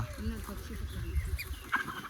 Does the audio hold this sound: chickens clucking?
yes